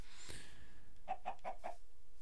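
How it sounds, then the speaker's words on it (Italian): A chicken in the Minecraft video game gives four quick clucks in a short even burst after a soft thud. The clucks are fairly close and clear against a quiet background. "C'è anche un pollo lì davanti."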